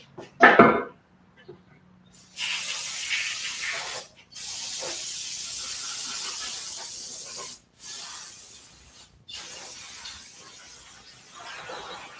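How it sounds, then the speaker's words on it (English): Long bursts of brake cleaner spraying onto an engine hiss steadily, broken by brief pauses, after a short clunk at the start. "Let's get this brake clean back."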